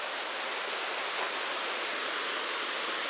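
Water pours down a cascading series of falls on a forest trail, a steady dense rushing roar that fills the clip, even and unbroken throughout, with no voices.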